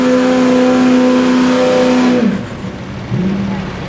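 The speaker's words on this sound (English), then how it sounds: "Duramax. Hutchins diesel performance. Sounding good." Duramax diesel pulling truck at a truck pull, a loud close engine drone holding steady, then dropping sharply and revving back up near the end.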